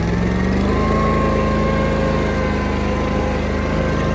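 A Toro Wheel Horse lawn tractor engine runs steadily at close range with a constant droning hum and vibration, and no voices.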